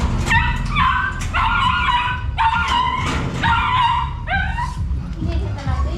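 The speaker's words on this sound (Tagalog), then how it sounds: "Ang ingay ni Uno." A dog named in the household barks, yips and whimpers noisily in repeated bursts close by, over steady background chatter and market-day household noise.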